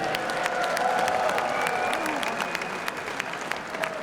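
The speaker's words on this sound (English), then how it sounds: "a big round of applause, please," A crowd applauds both fighters in the cage after a professional MMA bout, steady clapping mixed with some cheering, fairly distant and even throughout.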